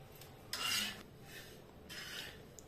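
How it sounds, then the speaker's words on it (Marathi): Sesame seeds being dry-roasted in a pan for curry leaf chutney, giving soft rasping stirs and scrapes in two short bursts, quiet and close with no talk. "तर हे तीळ भाजून घेते."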